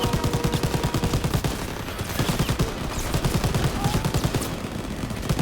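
Dense gunfire from Call of Duty WWII in liberated Paris, with rapid machine-gun bursts and volleys hammering steadily and loudly throughout, close and continuous.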